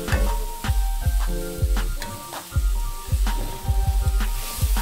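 Cabbage stir-fries in a hot pan, with repeated sharp metallic knocks and scrapes of a utensil against the pan over a soft sizzle, close and fairly loud, no voices.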